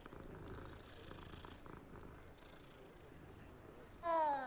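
A cat purring steadily while being petted in Hogwarts Legacy, a soft continuous rumble that runs through most of the moment before a brighter, louder game sound cuts in at the end.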